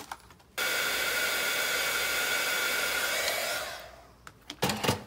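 A heat gun blows hot air for heat embossing on a Halloween mixed media art journal page, a steady loud whooshing whine that starts abruptly, runs for about three seconds, fades out, then gives way to a few light clicks.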